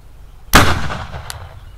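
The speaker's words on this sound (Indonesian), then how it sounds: "kita coba nyalakan mercon spiritus yang paling ringkas paling ringan" A compact, light spirit-fuelled firecracker (mercon spiritus) goes off in a single sharp, loud close blast that trails off into a rumbling echo, followed by a faint small pop.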